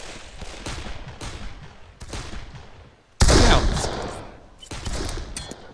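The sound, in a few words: gunfire in the video game Darkest of Days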